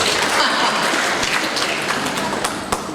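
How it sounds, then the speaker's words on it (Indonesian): A large church congregation applauds steadily during a worship service, a dense sustained clapping that fills the space without a break. "Berkat tepuk tangan buat Tuhan Yesus."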